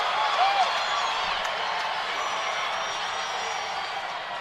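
Crowd noise from a women's main-event wrestling match, a steady broadband roar of cheering that holds at a fairly even level throughout, with a brief voice near the start.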